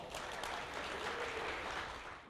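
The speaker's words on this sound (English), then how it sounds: "Would you give her a great round of applause?" Audience applause fills a township hall for a national anthem singer at a State of the Township address, a steady, dense wash of clapping that holds at even strength throughout, then eases slightly at the end.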